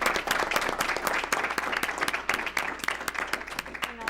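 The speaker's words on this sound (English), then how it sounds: "I'd like to offer a round of applause for Ms." Steady, dense audience applause fills a school board meeting room, many hands clapping continuously at moderate volume with no voices over it.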